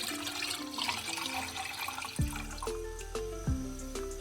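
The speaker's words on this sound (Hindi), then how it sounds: "सबसे पहले हम इसमें एक जग पानी लेंगे।" Water pours and splashes into a jug, with a few sharp clunks of the vessel being set down partway through.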